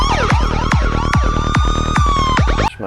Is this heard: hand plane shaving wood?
no